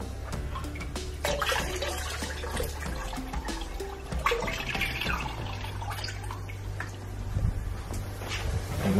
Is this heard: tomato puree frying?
no